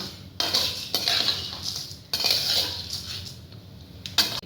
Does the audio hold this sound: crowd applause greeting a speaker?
no